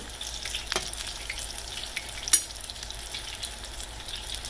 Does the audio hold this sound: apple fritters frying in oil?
yes